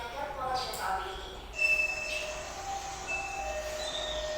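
A train passes at a railway crossing with squealing wheels and a sustained horn-like tone, loud and close, over a steady rumble while people talk.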